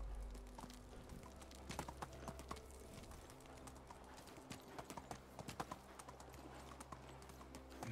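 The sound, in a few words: horse hooves in video game Medieval Dynasty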